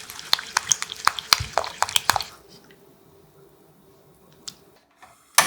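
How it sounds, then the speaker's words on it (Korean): Egg mixture with milk, salt and pepper is stirred in a bowl, giving rapid close clicking and sloshing strokes for about two seconds, then near silence broken by a few soft taps. "골고루 섞어주세요."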